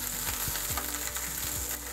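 Basmati rice sizzles and fries steadily in a hot pan during seafood cooking, a dense continuous crackle punctuated by scraping, clicking stir strokes, close and moderately loud with no talking.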